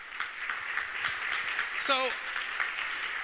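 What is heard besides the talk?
audience applause at a panel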